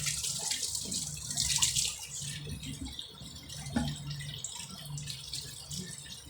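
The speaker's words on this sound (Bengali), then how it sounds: "হাতটা ভালো করে ধুয়ে নিই" Hands are washed under running water at a kitchen tap, a close, fairly quiet splashing with drips, rattles and a brief clatter, uneven throughout.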